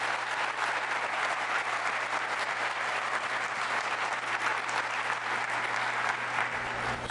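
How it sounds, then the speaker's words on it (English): Courtroom audience at a Michigan Supreme Court session in Muskegon giving the litigants a steady round of applause, dense continuous clapping from many people holding evenly throughout, with a faint low hum beneath. "why don't we have a round of applause for our litigants?"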